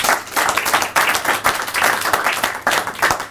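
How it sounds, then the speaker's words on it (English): A crowd at a university project showcase gives a quick round of applause for the presenters, dense rapid clapping from many hands that stays steady throughout. "Can we give them all a quick round of applause?"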